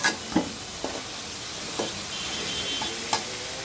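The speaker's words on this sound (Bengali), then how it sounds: "এটা ভালোভাবে কষাই নেব।" Shol fish sautéed in a pan, a continuous close sizzle broken by a few brief scraping stirs, no talking.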